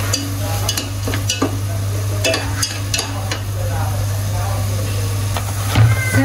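Tomatoes stir-fried in a pan for a couple of minutes while cooking tomato noodle soup, with a steady sizzle, scattered utensil scrapes and clicks, a low continuous hum, and a voice talking over it.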